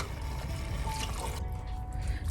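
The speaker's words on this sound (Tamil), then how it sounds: "அதிலே கொஞ்சம் இந்த ஜார்லேயே தண்ணி கொஞ்சம் ஊற்றி மிக்ஸ் பண்ணி இதில் ஊற்றிடலாம்" Ground masala mixed with water poured from a mixer jar into a pot of mutton for Chettinad mutton kulambu, a soft steady liquid pour with light splashing and trickling.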